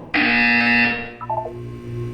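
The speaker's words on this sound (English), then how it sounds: "You will hear a buzzer. When you hear the buzzer, look down at the floor." A Portal 2 test-chamber buzzer blares loud and steady for nearly a second, then fades into a low hum with a few softer tonal blips afterward.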